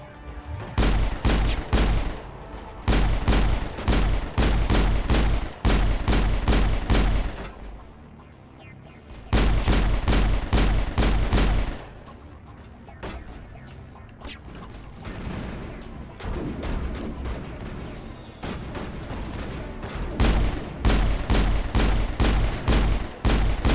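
Pistol gunfire in the video game Mass Effect, with loud rapid volleys of shots in several long bursts, separated by quieter stretches of combat ambience.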